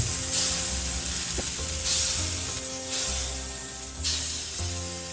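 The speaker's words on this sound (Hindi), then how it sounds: "सेम प्रोसेस में सेकेंड बैच भी फ्राई कर लेते हैं।" Sago appe, a sabudana batter snack, fry in oil in an appe pan, giving a close hissing sizzle that swells in several bursts with faint background music and no speech.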